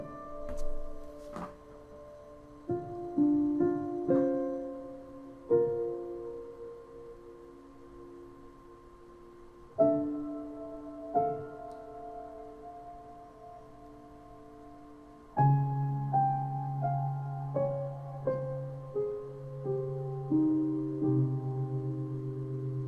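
Soft felt piano from a sample library plays a slow, sparse sequence of mellow chords and single notes, each gently struck and left to decay, with a sustained low chord entering partway through, alone and without talk.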